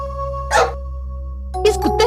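A dog barks indoors in short bursts, one bark and then a quick double bark, over a steady low hum in a drama scene.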